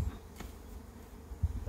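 A low, faint buzz of honeybees in a hive hums continuously, droning close by in a brief moment with no voices.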